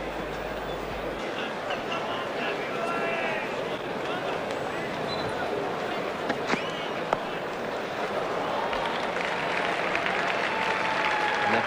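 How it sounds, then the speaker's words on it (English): A cricket crowd at a 1981 Pakistan vs West Indies one-day international cheers and applauds in a steady, broad roar that lasts throughout, with commentary faintly audible beneath it. "a big cheer from the crowd again"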